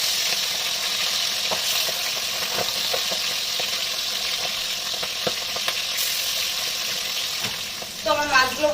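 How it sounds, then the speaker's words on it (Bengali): Pabda fish frying in hot oil for a spicy Bengali fish curry, a steady loud sizzle with occasional pops and crackles, ending in a brief burst of bubbling spatter. "তেল গরম হয়ে গেছে, এরকম মাছগুলোকে আমি দিয়ে দেবো।"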